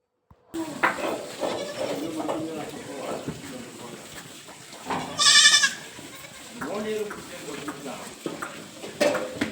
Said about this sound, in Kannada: ಇವಾಗ ಮೇಕೆಗಳೆಲ್ಲ ಹೊಡ್ಕೊಂಡು ಬಂದಿದ್ದಾರೆ